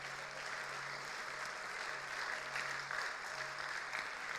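A church congregation applauds during a sermon, a soft, even wash of clapping that sounds somewhat distant and low in level.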